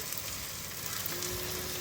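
Chopped onion, garlic, green chili and ginger frying in oil, a steady soft sizzle with faint crackles throughout, fairly quiet and close, with no talking.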